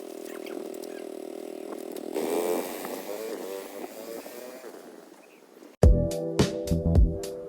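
A motorcycle engine runs steadily and loudly, rising in pitch as it revs, then cuts abruptly to a harsher, closer engine roar near the end.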